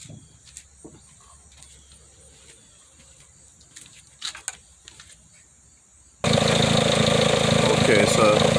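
A Kia Spectra car engine starts up after an oil pressure switch change and settles into a loud, steady idle close by, following a stretch of quiet clicks and handling noises.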